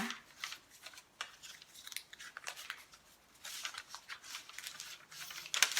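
Scissors snipping through paper being cut to wrap a wine bottle, a string of short, crisp, close-up cuts in irregular bursts, with a quick rustle near the end.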